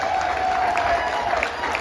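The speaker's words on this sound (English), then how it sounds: "thunderous applause" A crowd at a political rally in Nampa, Idaho claps in a steady, dense wash of applause that fills the whole moment, with no voices standing out.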